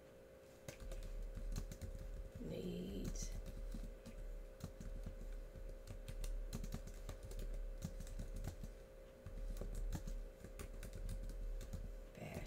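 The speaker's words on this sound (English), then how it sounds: "start typing over here what I want to put." Steady computer keyboard typing runs throughout, with fairly continuous keystrokes under a low background hum; a brief word is spoken.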